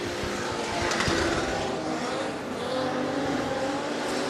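A super stock race car passes on the Rockhampton Speedway oval, its engine droning loudly and swelling as it goes by amid steady track noise, with a faint tire squeal.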